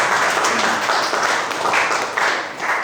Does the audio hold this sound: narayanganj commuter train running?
no